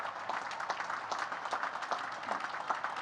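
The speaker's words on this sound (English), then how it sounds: "So midshipmen, stand up and clap for them." Naval Academy midshipmen at their graduation ceremony applaud their families, a fairly faint, distant wash of clapping from a large crowd in a big venue with scattered individual claps.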